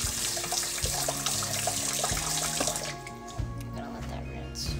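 Water runs from a tap into a sink for rinsing, a steady close splash with drips, easing somewhat near the end; a voice speaks briefly under it.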